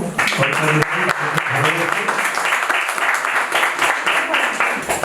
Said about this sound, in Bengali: আমরা একবার সকলে মিলে করতালি দিয়ে তাকে সাদর সম্ভাষণ জানাবো